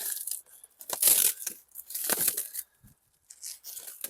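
Packaging for remote-controlled toy cars is torn open in several quick bursts of ripping and crinkling, close and loud, with short pauses between the tugs.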